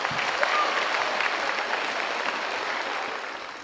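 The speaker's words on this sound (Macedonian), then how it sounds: "И јас би замолила со еден огромен аплауз да се заблагодариме за поддршката на фестивалот Сидо" An audience at a children's international festival claps in sustained applause, a dense even patter of many hands that holds steady and then begins to taper off at the end.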